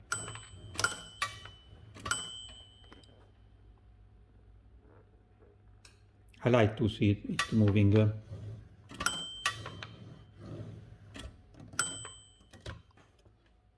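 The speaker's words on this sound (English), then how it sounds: "The mechanism of ringing the margin bell is always very nice in the typewriter." A 1918 Remington Junior portable typewriter's margin bell dings a few times amid sharp mechanical clacks of the carriage, close and crisp, while someone talks between the rings.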